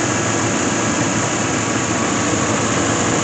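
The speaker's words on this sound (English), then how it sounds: "here's the engine. And it runs quite nice." An OBS truck's 350 engine with a hole in its exhaust runs at a steady idle, giving off a continuous, even rumble and hiss at close range with no pauses and no talking.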